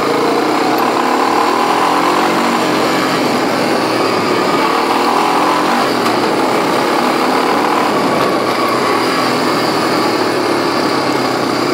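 A small Honda ATV engine, 300 or 350 class, revving steadily while riding, a loud continuous buzzing drone held close with no talk.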